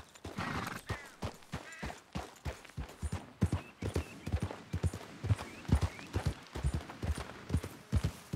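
Horse hooves clip-clopping at a steady riding pace in Red Dead Redemption 2, a regular rhythm of distinct thuds close by, heard alone without talk.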